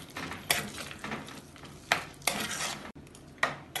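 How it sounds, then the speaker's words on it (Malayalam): Malai chicken with a pinch of kasuri methi is stirred in a pan, with sharp spoon clanks against the metal at irregular intervals over a low sizzle and scraping. "ഇത് ഇളക്കി മിക്സ് ചെയ്യാം"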